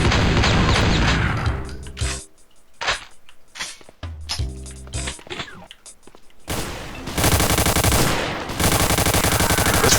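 Weapon fire from the shooter video game D.E.A.R. Doom, including a scoped sniper rifle: loud bursts of gunfire at the start, a few sharp separate shots in the middle, then sustained heavy firing near the end.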